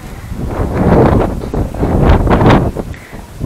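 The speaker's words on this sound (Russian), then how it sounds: "На улице вроде бы тепло, но ветер." Strong wind blowing outdoors in a Russian village on a mild day, buffeting the microphone with loud, continuous gusts that surge and ease with no one speaking.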